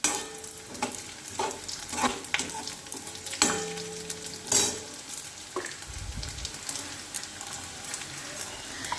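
Peanuts sizzle and crackle steadily in a hot pan, with occasional scraping stirs and clinks of a utensil.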